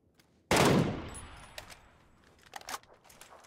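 A machine gun fires in a first-person shooter video game, one loud burst rising sharply and decaying over about half a second, followed by fainter scattered shots and clicks further off.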